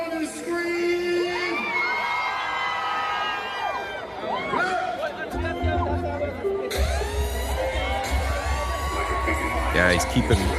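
A festival crowd at the Lucian Jazz & Arts Fest in Saint Lucia cheers, whoops and screams loudly and continuously, with shrill shouts and a dense babble of voices.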